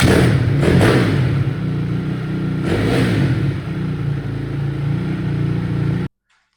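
A Honda CRF250R dirt bike engine runs and revs loudly and close, with steady throttle blips and a sustained idle roar throughout, cutting off abruptly near the end.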